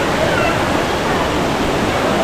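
Steady roar of a waterfall near Kolhapur, loud and unbroken, dense broadband rush of falling water filling the scene with no pauses.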